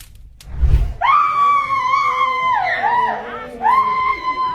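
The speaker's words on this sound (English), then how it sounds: "A woman inside a mosque suddenly began screaming, startling everyone around her." A woman screams inside a mosque during an exorcism, a loud, sustained wailing cry that rises, wavers and breaks, with a brief thump just before it.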